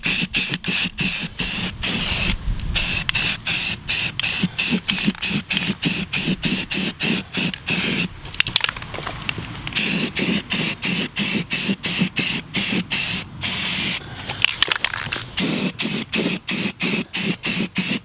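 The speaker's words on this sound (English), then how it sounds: "give the can a shake, and then spray down coat number 2 onto the wheel" A spray can lays a second primer coat onto a car wheel in rapid, loud, hissing bursts, repeated in a steady rhythm with a few longer sustained sprays and brief rattles between them.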